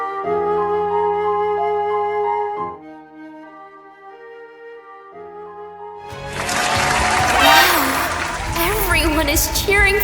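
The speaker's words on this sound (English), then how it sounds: "Everyone is cheering for me" Crowd cheering in a Roblox Brookhaven roleplay game, a loud broadband burst of cheers that swells in after a stretch of calm tonal music and holds strongly to the end.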